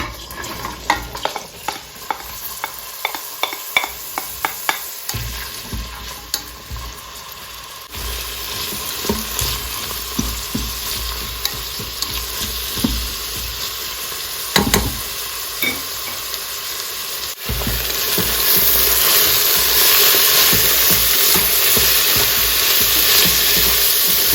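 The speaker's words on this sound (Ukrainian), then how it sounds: "Вже шкварчить." Vegetables sizzle and crackle steadily in hot corn oil in a multicooker for plov, with intermittent scraping of stirring over the frying, growing louder and denser toward the end.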